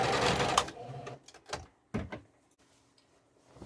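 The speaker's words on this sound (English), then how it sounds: "I'm just putting a reverse stitch on the end of the pillow cover that I cut so it doesn't come apart." A sewing machine runs a reverse stitch across the cut end of a fabric pillow cover. A loud stretch of stitching is followed by a few short mechanical clunks and knocks, close by, with no talking.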